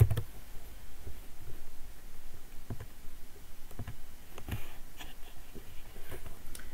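A pen writes out a chemical reaction equation for burning ethane with oxygen by hand, with close, scratchy strokes and intermittent taps against the surface, alone and without talk.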